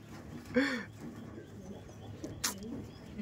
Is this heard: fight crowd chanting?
no